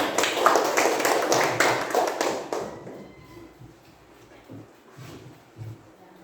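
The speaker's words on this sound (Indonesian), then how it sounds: "Tepuk tangan buat kita semua." A group of children clap their hands together in a classroom, a dense burst of quick, overlapping claps that fades out after about three seconds into quieter room noise.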